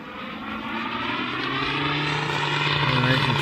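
A large RC P-47 model plane powered by a DLE-222 gas engine drones overhead, a continuous buzzing propeller tone that gradually grows louder and slightly shifts in pitch as it passes.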